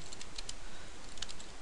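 Light tapping on a computer keyboard while entering a command in MATLAB, a few quick, faint clicks in small clusters over a steady hiss, no talking.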